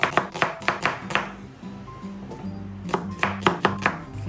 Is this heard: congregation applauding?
no